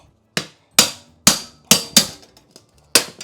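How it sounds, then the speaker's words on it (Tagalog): A pry bar works up wood laminate flooring with a series of about seven sharp, loud knocks at an uneven rhythm, each dying away quickly, and nothing else heard between them. "Gamitin natin ang pry bar."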